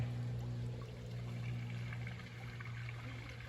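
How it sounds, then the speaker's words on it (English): A real creek running beside an old gem mine in Franklin, North Carolina, flows steadily with a continuous trickling, pouring wash of water, fairly soft and even throughout with a low hum beneath it. "they got a real creek over here next to it."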